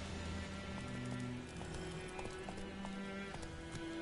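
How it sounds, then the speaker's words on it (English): Horse hooves beat in a quick, rhythmic gallop over a steady low ambient backdrop in The Witcher 3 game audio. "Luckily, Geralt can always count on his horse, Roach, to help him in his travels."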